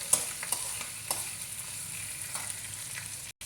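Tempering spices and ginger frying in hot oil, a steady close sizzle with occasional soft stirring clicks and pops, alone without talk.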